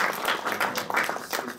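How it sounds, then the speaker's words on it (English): A brief burst of audience applause at the close of a panel discussion, with scattered clapping rising and falling for under two seconds. "I would ask everyone to give a round of applause"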